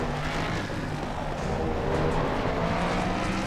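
GT race cars including a Mercedes and a Honda roar around Oulton Park in Assetto Corsa Competizione, a dense continuous engine drone with layered motors close behind and faint tyre noise.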